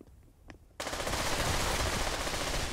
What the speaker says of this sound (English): I think I just no-scoped him with an AK-47